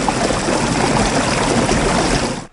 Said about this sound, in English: running streams,